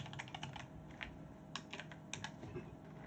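Rapid, uneven keystrokes on a computer keyboard, close and steady for a few seconds, with occasional louder key hits and no talking.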